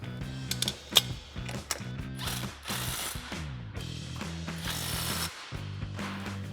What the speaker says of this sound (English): Now we're going to tighten down our center stabilizer mounting bolts with our 19 millimeter wrench and a 19 mil